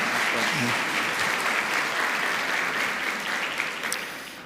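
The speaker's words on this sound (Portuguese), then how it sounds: "Mais uma salva de palmas, por favor." Sustained, loud applause fills a church as the congregation claps for newly baptized candidates, many hands clapping evenly before slowly easing off, with a voice heard briefly over the start.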